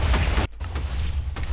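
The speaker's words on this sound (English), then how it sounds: "He's loading up, so he will explode. There's the explosion." The Wither boss in Minecraft lets out a huge, loud explosion that fills the clip with a dense roaring rumble, broken only by a brief dip partway through before the blast continues.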